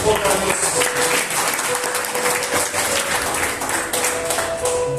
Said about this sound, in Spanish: Vamos a dar un aplauso a eso